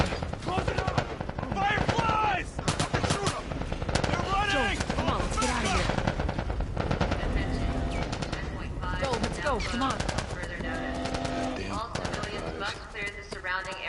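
Dense bursts of automatic and single gunfire crackle through a checkpoint firefight in the video game The Last of Us Part I, loud and nearly continuous, with voices shouting over the shots.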